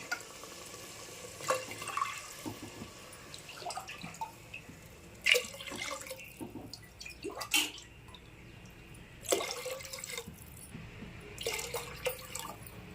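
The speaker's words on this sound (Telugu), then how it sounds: "4 గ్లాసులు వాటర్ వేసుకుంటున్నాను." Four glasses of water are poured into a pot of biryani rice, giving a soft splashing trickle in a few bursts over a low, steady background, close by with no talking.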